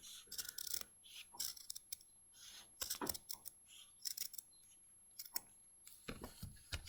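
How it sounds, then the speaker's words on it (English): Scissors trim freezer paper around a circle for applique, with quiet, close, irregular snips and paper rustles in quick succession, faint overall with no talking. "I trim the circle around."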